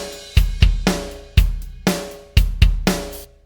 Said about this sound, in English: I've loaded a few little MIDI pattern clips from EZDrummer here as well. So it's just some basic rhythm